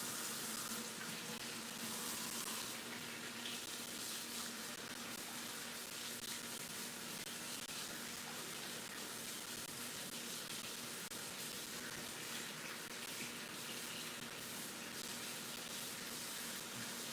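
Water runs steadily from a kitchen tap while a utensil is rinsed, a continuous soft splashing hiss with no voices.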